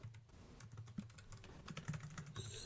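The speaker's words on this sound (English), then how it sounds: "typing." Quiet, rapid keyboard typing, a stream of light key clicks in quick irregular bursts against a faint low hum.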